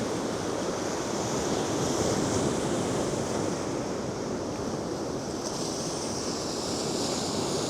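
Steady ocean surf washing in a continuous broadband roar, with wind buffeting the microphone and no distinct individual wave breaks.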